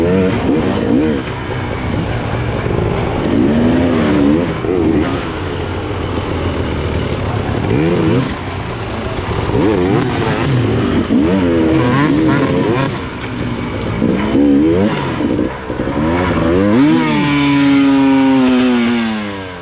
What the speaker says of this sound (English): Oh, the old XEW is getting hot now. A little runaway engine there.